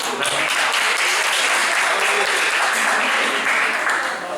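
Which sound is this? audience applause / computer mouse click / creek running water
audience applause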